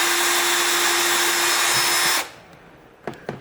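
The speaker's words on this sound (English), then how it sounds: "There we go, drill through plastic." A power drill whirs steadily and loudly for about two seconds while drilling through plastic on a laptop hinge mount, then stops, followed by a couple of short clicks and knocks.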